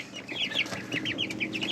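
Young chickens clucking inside a brooder box under a heat lamp, a busy run of short, chirpy calls overlapping one another at close range for the whole stretch.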